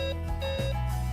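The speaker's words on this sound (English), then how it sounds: "dual alarms with 105 decibel volume and a vibrating alarm" A HomeAware home safety alarm, rated at 105 decibels, sounds steady electronic tones with stacked, shifting pitches, loud and continuous for about a second with no voices.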